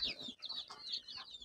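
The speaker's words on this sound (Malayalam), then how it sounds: "ഇത് 5 മാസമൊക്കെ ആകുമ്പോഴേക്കും മുട്ടയിട്ട് കൊടുക്കുന്ന കോഴികളാണിത്" Sonali native-breed chickens cluck and chirp nearby in a series of short, high, busy calls that overlap in quick succession, with no talk over them.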